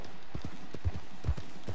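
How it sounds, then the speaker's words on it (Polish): A horse in Red Dead Redemption 2 walks with close, steady clip-clopping hooves, a regular rhythm of heavy thuds over low background noise. "I tu jest mój główny koń, czyli Sophie."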